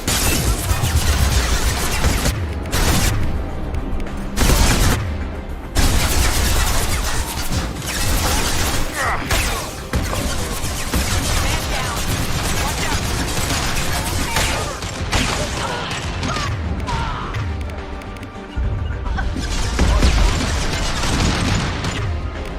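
Gunfire and explosions from combat in the video game Mass Effect 2, a dense, loud, continuous barrage of crashes, booms and bursts with only brief gaps, and faint voices underneath.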